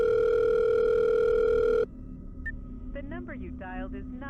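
A steady telephone tone rings loud and unbroken for about two seconds, then cuts off abruptly, leaving quiet room noise with a brief beep and a faint voice afterward.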